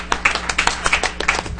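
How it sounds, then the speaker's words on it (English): Brief round of applause at a city council meeting, a handful of hands clapping in an uneven patter for under two seconds, fairly close and moderately loud, with a faint murmur of voices beneath. "give a round of applause"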